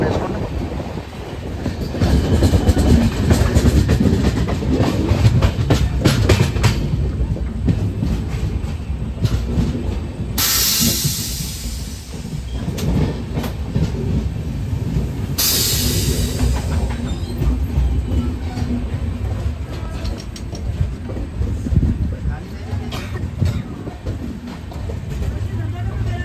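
The Secunderabad–Vijayawada Intercity Express runs with a loud, continuous rumble of wheels and carriages, rhythmic clatter and occasional hissing squeals, heard from on board.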